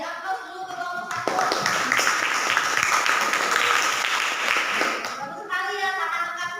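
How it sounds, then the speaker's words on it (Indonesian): A classroom group claps for student presenters in a biology lesson, a dense burst of applause lasting about four seconds, with a teacher's voice speaking before and after. "beri aplaus dulu ke kelompok 1."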